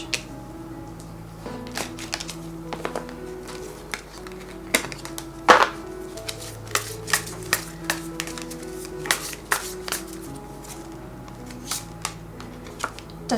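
Tarot cards are shuffled and handled in a steady run of soft, crisp clicks and riffles, with a faint low hum underneath and no talking.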